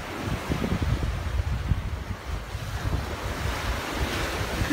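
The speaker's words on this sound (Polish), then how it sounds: "Ogólnie dzisiaj mamy fale jak w Sydney." Ocean surf rolls in under cliffs on the English coast, a loud continuous roar of breaking waves mixed with heavy wind buffeting close to the microphone.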